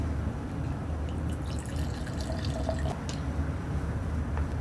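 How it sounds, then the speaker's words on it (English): Cheap whiskey or wine poured into an empty glass, a steady close liquid splash and trickle running the whole time with faint dripping on top and no talking. "pour your cheap whiskey, your cheap wine,"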